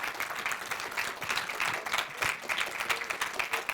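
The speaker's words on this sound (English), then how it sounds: "this really deserved some kind of applause" Audience applause after a talk at a hacker conference, a moderately faint, uneven patter of clapping that continues for a few seconds.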